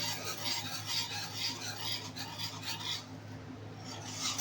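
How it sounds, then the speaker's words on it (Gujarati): A spoon stirs thickening khandvi batter in a pan, making steady scraping and rubbing strokes in a continuous rhythm. The sound is close and moderately quiet, with a faint background hum. "આપણે આને સતત જાડું થાય ત્યાં સુધી હલાવતા રહેવા"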